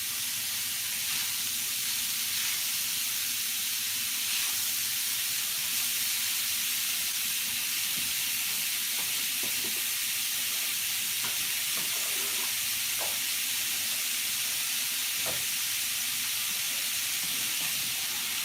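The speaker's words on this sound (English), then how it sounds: "we're going to take our sausage meat, our hamburger meat, get it in the pan" Sausage meat and hamburger meat sizzle in a pan with a steady, constant frying hiss, broken by occasional faint pops and stirring sounds.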